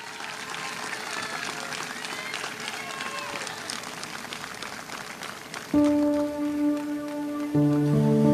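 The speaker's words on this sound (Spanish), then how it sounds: "Dele palmas a Cristo Jesús, hermano." A church congregation claps for Christ Jesus at a night service in Trujillo, Peru, a dense, steady patter of many hands that continues as piano notes enter near the end.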